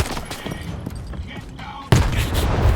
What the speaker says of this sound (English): Brothers, I'm throwing a grenade!